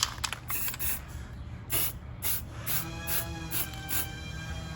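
Tire shine sprays onto car wheels in a series of short, sharp hissing bursts from a nearby aerosol or trigger bottle, with brief pauses between each spray.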